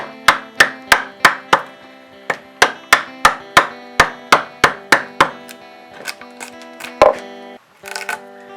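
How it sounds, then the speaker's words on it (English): A mallet drives a bevel-down chisel into wood, sharp evenly spaced knocks repeating about three times a second, close and loud, then a few scattered hits and some scraping as the pace breaks off. "I'm using a mallet for this part, and I'm just chopping these out."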